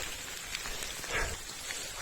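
Steady rain falls on leaves and ground in a mountain botanic garden on Java, Indonesia, a soft continuous patter at even level with no voices.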